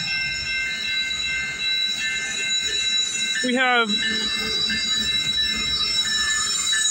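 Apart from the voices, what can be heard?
CP freight train passing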